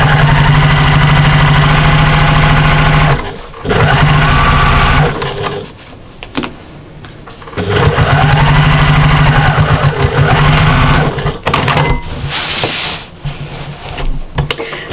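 Fast bursts of sewing machine stitching along the bottom edge of a patchwork shopper bag, loud and close, a buzzing whir broken by brief pauses between runs.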